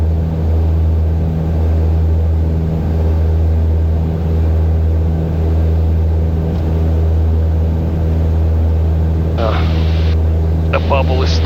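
A Piper Aztec twin-engine plane thrums steadily while taxiing after its fuel bladders were replaced, a loud, deep, constant hum with pulsing low tones, and a voice speaks briefly near the end.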